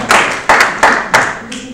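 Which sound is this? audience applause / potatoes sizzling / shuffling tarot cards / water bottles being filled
audience applause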